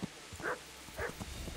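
Dog barking in the medieval RPG Kingdom Come: Deliverance, a few short, muffled barks at moderate distance over a low ambient game background.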